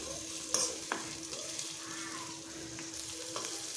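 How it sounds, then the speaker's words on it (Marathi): Green chili chutney frying in oil in a pan for a traditional vegetable dish, a steady soft sizzle with occasional clinks and scrapes of a spoon stirring, no talking. "आता आपल्याला ही चटणी तेलामध्ये छान अशी परतून घ्यायची आहे"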